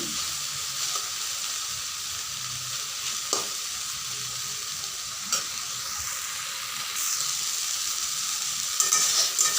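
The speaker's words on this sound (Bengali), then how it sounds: "এইভাবেই শাকগুলোকে ভাজতে হবে কিছুক্ষণ ধরে" Kolmi greens (water spinach) frying in a pan with a steady, close sizzle, broken by occasional scrapes and stirring clatters; no voices.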